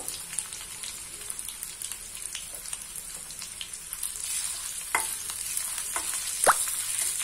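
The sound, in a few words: ginger sizzling as it fries in a pan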